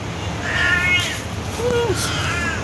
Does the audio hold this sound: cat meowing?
yes